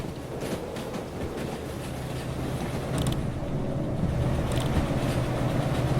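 Two locomotive engines in the Derail Valley train game chug with a low steady rumble, a few faint clanks on top, growing slightly louder partway through, with no talking.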